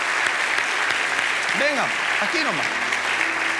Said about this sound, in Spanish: Vamos un aplauso, por favor.